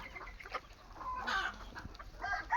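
Free-range desi country chickens on a poultry farm clucking in short bursts, near and fairly loud over a low outdoor background, without speech.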